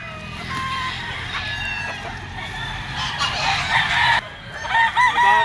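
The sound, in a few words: roosters crowing at a chicken market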